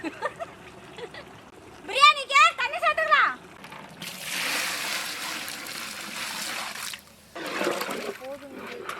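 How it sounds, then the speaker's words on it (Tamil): Water is poured into a pot of green chicken biryani, a steady rushing pour lasting a few seconds, with a person talking before and after it. "பிரியாணிக்கு தண்ணி சேர்த்துக்கலாம்"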